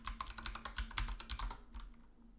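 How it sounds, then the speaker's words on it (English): A computer keyboard typing a password during a Splunk lab setup, a quick run of close, crisp keystrokes at an uneven rhythm that thins out and stops near the end, with no voices. "So I'll type admin, and then I'll put in a complex enough password here."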